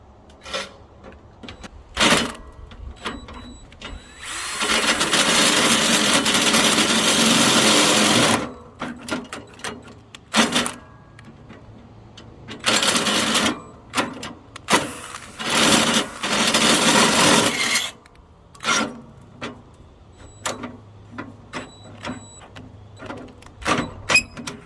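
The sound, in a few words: drilling out a part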